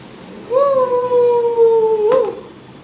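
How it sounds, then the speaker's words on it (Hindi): A single dog howls in one long, steady, close, loud note that bends slightly downward before cutting off. "ये कुत्ते की आवाज थी पता है।"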